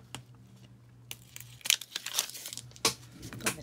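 Tape backing being peeled off the back of a handmade Christmas card, a run of close crinkly tearing and crackling bursts that grow busier toward the end, with no talking.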